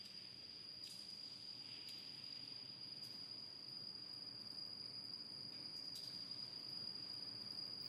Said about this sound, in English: It is surprising that there are crickets hiding down here.